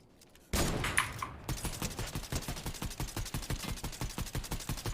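Sustained automatic gunfire in a video game aimed at bots, a sharp onset followed by a steady, rapid, evenly spaced stream of loud close shots.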